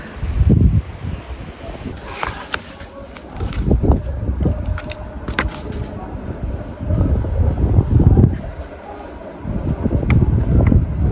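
Strong gusty wind blowing across the microphone outdoors on a rainy day, rumbling in loud low buffets that rise and fall throughout, with faint background sounds mixed in.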